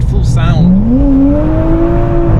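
A race car engine on a track drones nearby, its pitch climbing steadily as it accelerates, with a brief higher whine near the start.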